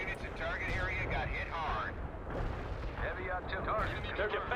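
Infantry gunfire in the World in Conflict strategy game, a steady barrage of distant shots and booms rumbling continuously beneath someone talking throughout.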